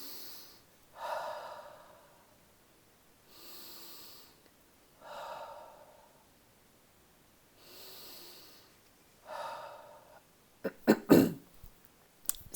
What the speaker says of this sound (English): See that little cough throat clearing thing I did?